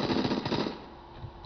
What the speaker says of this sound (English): Let's try a shotgun.